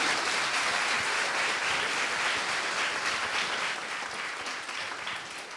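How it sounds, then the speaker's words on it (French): An audience applauds the speakers at a talk on everyday sexism, producing a dense, steady wash of many hands clapping close by that holds for several seconds and fades slightly toward the end, with no voices over it. "On les applaudit, on les remercie."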